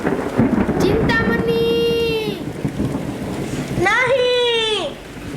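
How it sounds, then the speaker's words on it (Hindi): Night storm with heavy rain and rolling thunder, a steady roaring wash of rain throughout, while people talk over it in dramatic voices. "तूफान अपने चरम सीमा पर है"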